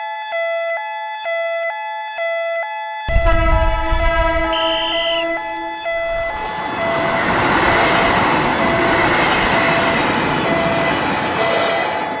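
At an Indonesian railway level crossing, a crossing bell rings in a repeated pattern, then a train roars past loudly and close. The heavy rumble and clatter build and keep going to the end.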